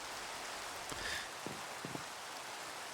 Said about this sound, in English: it is always raining in this damn world